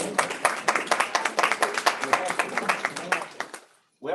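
People at a school board meeting clap in a modest room, a thin scattering of distinct hand claps that fades out near the end before a voice resumes.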